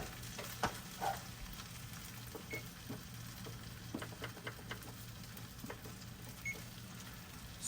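Two mushrooms frying in a very hot pan give a steady low sizzle with scattered small pops and crackles, quiet and close, with no voices.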